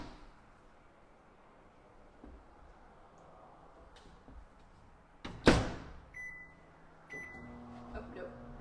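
A microwave oven hums steadily with a popcorn bag inside, with a door clunk, a loud thump and then several electronic beeps, under quiet background noise.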